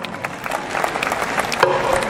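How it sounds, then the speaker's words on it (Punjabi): An audience at the Mela Punjabia Da 2014 festival in Surrey, BC claps, brief crowd applause of many scattered hand claps with a faint tone near the end. "ਸੋ ਇੱਕ ਵਾਰ ਜ਼ੋਰਦਾਰ ਤਾੜੀ ਹੋ ਜਾਏ ਪੰਜਾਬੀ ਮਾਂ ਬੋਲੀ ਦੇ ਨਾਮ"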